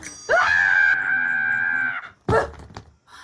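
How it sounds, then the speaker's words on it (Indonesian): A woman screams loudly in a long sustained shriek, then a second shorter cry follows after a brief pause, close and harsh. "Kenapa teriak-teriak tuh?"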